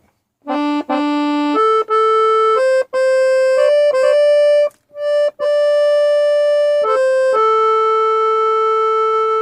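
An accordion plays a simple melody on the single middle reed register, clean, with held notes and short breaks between phrases, loud and close.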